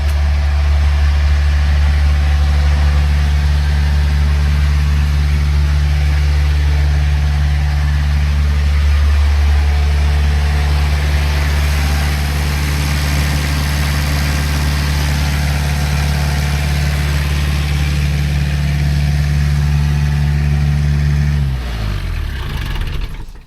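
A warmed-up pony car engine idles loud and close with a deep steady rumble that holds for over twenty seconds, then shuts down at the end.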